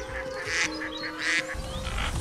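Duck quacks in a short burst of several nasal calls, one cluster early and another about a second later, over a steady background hum.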